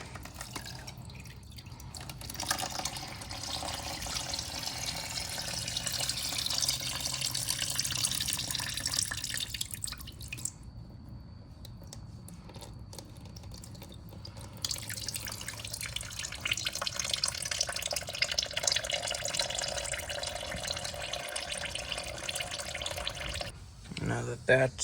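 Used oil drains from the engine of a Craftsman GT18 lawn tractor during servicing, a steady close trickle and dripping that runs throughout under talk, with the flow thinning partway through.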